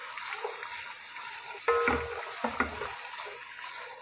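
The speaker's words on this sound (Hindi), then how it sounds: "गाजर और शिमला को थोड़ा सा फ्राई करेंगे।" Carrot and capsicum stir-fried in a pan with chicken and garlic give a steady hiss of sizzling, broken by a few spatula scrapes and clinks, close and fairly quiet.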